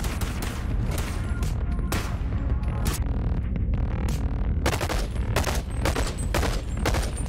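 Rapid gunfire fills a chaotic Bonelab VR game session, loud and continuous for over seven seconds, with dense overlapping shots and bursts.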